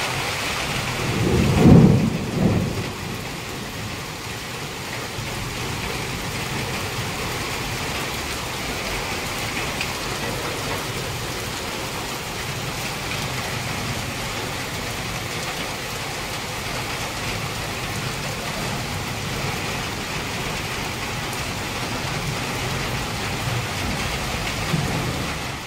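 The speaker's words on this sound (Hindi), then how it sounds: "दिखाती हूँ बारिश।" Steady heavy rain pours throughout, with one loud rumble of thunder rolling in near the start before the downpour continues alone.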